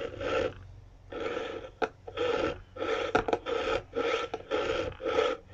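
Rhythmic rasping strokes of a hand saw cutting copper wire, about ten steady back-and-forth passes with brief pauses between, close and fairly loud.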